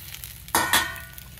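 Ivy gourd (dondakaya) pieces frying in a pan, two short loud bursts of sizzle and stirring against a low background hiss.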